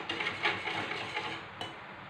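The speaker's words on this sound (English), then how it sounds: "You need to stir." A utensil stirs brown sauce in a pan, making a soft, continuous scraping and swishing sound with a faint sizzle, quiet and close, with no voices.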